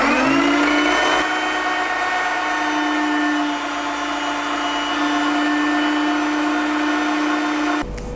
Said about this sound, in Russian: теперь буду перемалывать печень в мясорубке